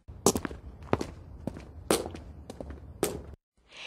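Close footsteps from a single person walking, five or six crisp thudding steps at a moderate pace before a brief silence, with nothing else audible.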